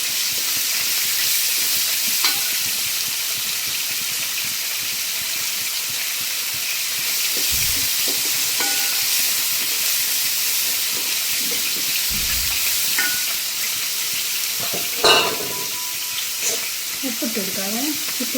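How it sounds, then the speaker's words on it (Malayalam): Chopped onions fry in a pan for kanthari chicken curry, giving a steady close sizzle with occasional scrapes and clinks of stirring, and a faint voice near the end. "പിന്നെ നമുക്കിത് അരിഞ്ഞ് വെച്ചിരിക്കുന്ന സവോള ഇട്ട് കൊടുക്കാം കേട്ടോ."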